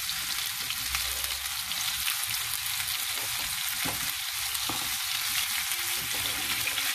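Mackerel fillets fry in hot oil in a pan, giving a dense, continuous loud sizzle and crackle that holds steady throughout, close up and with no talk.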